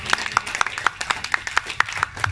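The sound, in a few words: applause for the pupils' parents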